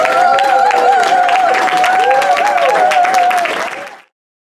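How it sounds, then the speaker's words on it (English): A gala audience applauds loudly and continuously, with a sustained musical tone or cheering running through the clapping before it cuts off abruptly near the end. "specially an artist as good as Jamie Newell, we just don't give them one round of applause."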